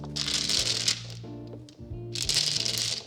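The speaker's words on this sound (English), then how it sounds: "Give the tiles a good shuffle, then make sure they're all flipped over and give a more gentle shuffle." Riichi mahjong tiles are shuffled on a table, two bursts of clattering, rattling tile noise separated by a quieter pause, close and fairly loud with no voices.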